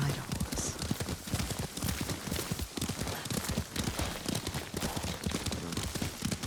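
A horse's hooves clip-clop at a steady trot in Ghost of Tsushima, a continuous rhythmic beat up close with faint game sounds around it.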